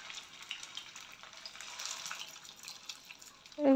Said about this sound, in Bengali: এখন আমি এগুলো ভেজে নেব।